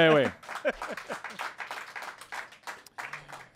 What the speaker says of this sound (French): Bon, c'est bon, les applaudissements.